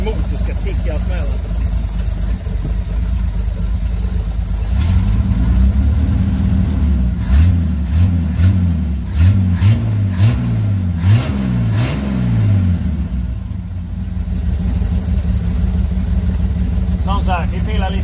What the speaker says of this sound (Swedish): En motor ska ticka och smälla.